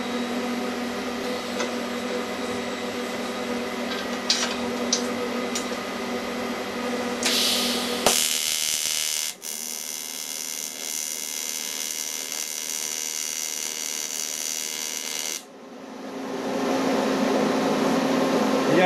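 TIG welding arc at about 200 amps brazing a cast iron band saw blade joint, a steady loud buzzing hiss that surges and cuts out, continuous and close with no talking.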